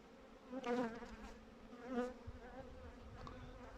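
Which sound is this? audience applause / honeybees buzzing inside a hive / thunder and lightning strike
honeybees buzzing inside a hive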